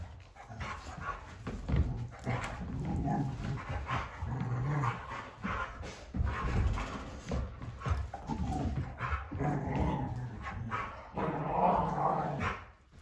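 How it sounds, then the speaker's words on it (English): German Shorthaired Pointers wrestle indoors, with barks, growls, yips and panting in a continuous rough-and-tumble scuffle, fairly close and moderately loud, with no talking. "It is every time I get on here to try to make a video, they start wrestling in the background."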